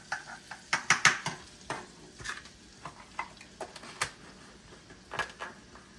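Butter browning with garlic in a pan on high heat gives a soft, faint sizzle under quick, sharp stirring clicks and scrapes that come in irregular bursts, close by, with no voices.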